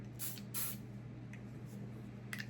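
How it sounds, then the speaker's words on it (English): Several short hissing bursts of a room spray, two close together at the start and more quick puffs later, over a quiet low hum. "I love a room spray. We're gonna spray it now."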